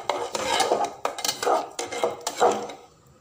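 Tomato gravy stirred in a pot, a spoon scraping and clinking against the metal in several quick rhythmic strokes, close and fairly loud, with no talk.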